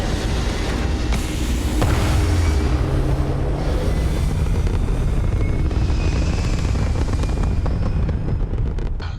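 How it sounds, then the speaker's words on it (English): A spaceship taking off in the video game Starfield, a steady loud roaring rumble with wind-like hiss that holds constant throughout, dense and unbroken with no voices. "Ready for takeoff in 3, 2, 1, go!"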